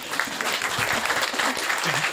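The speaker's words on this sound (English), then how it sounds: "Applause, please." Audience at a comedy fringe show applauding, a continuous, even burst of many hands clapping, fairly close, with faint crowd murmur underneath.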